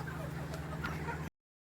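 Chickens on a poultry farm at night give brief, muffled clucks over a low hum for about a second before the sound cuts out.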